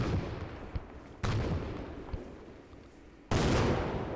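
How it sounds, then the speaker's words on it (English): War video game combat during an alternate-history Second Korean War scenario, with a sharp boom partway through and another loud, sustained blast near the end over a rumbling background of distant battle and no talking. "Let's try my last grenade."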